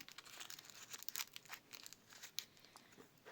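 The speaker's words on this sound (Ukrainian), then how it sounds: "Відкриваємо наш пакетик." Paper crinkles and tears in short, quiet bursts close by as a small paper surprise packet is pulled open.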